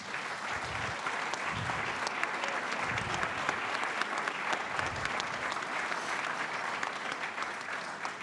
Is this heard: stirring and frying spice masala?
no